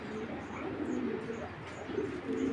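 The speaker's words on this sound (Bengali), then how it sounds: "এটা হলো একটা ব্রিডিং সুপার মিলি ব্রিডিং কবুতর।" A breeding pigeon of a foreign racing strain coos softly, with low, murmuring calls repeating several times over a faint, steady background hiss.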